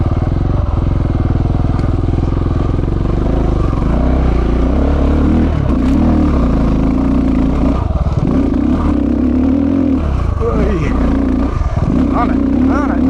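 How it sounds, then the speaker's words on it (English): An off-road motorcycle climbs a hill in second gear through foliage, its engine roaring loud and steady throughout with rising and falling revs and scraping clatter, and a voice speaking over it. "charging up a hill on a motorcycle"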